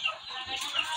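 Layer chickens on a farm give a short burst of high, busy clucking, close and fairly clear.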